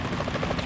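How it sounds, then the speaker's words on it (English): Helicopter from the video game Metal Gear Solid 2, a steady pulsing rotor thump heard briefly and at moderate distance, with no voices. "Is that a chopper I just heard?"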